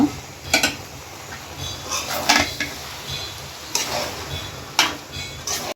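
Rice, lentils, carrots and long beans for a pork and vegetable khichuri are sautéed in a pan. A spoon scrapes and clatters in a few separate strokes over a low, steady sizzle.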